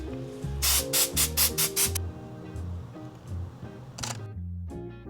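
Atmospheric aerosol spray used for product photography, a burst of short hissing sprays in quick succession followed by one more later, over background music.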